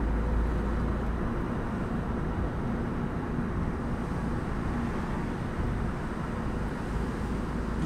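A car accelerates during a driving lesson, heard from inside as a steady, dense engine and road rumble that holds without breaks.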